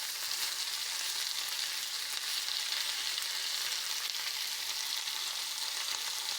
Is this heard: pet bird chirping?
no